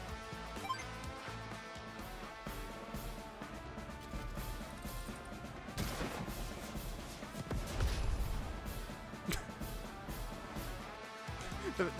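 Rocket units firing on a tank in Advance Wars 2 give short blasting bursts over busy game music, one around the middle and a heavier, rumbling one shortly after.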